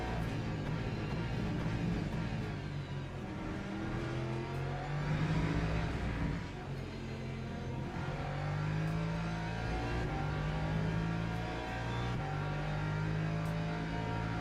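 LMP2 race cars scream past at Imola's Turn 1, engines rising and falling through gears in a continuous distant roar, with overlapping passes and faint crowd ambience.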